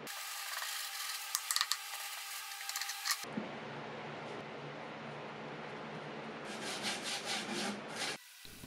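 Furniture paint gets scrubbed off with a wire brush in rapid, gritty rubbing strokes, close and fairly quiet, coming in bursts with brief pauses.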